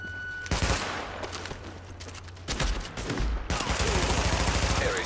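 Rapid bursts of gunfire in The Division, a shooter game set in New York City, with loud, dense volleys and overlapping shots rattling almost continuously, a brief lull midway before heavy firing resumes.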